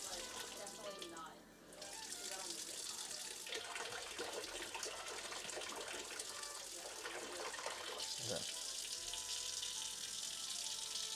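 Water runs steadily from a tap in a home kitchen, a continuous bright hiss with splashing and a few clinks and thumps, while a person briefly speaks nearby.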